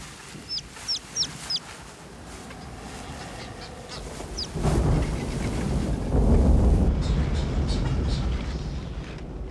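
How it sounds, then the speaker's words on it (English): Brown boobies calling from a colony on an island hillside: a quick run of four or five sharp calls early on, then a single call, followed by rising wind and low rumbling that swell and carry on to the end. "Brown boobies raise their young on the hillside."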